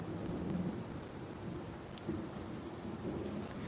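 Steady rain falls with a rumble of thunder underneath, a continuous broadband wash with low rolling swells and no talking.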